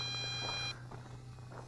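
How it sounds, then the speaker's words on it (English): An MJX Bugs 8 Pro quadcopter drone gives off a steady high-pitched electronic tone over a low motor hum; the tone cuts off abruptly partway through, leaving the quieter hum. "I'm hearing beeping coming from the quadcopter"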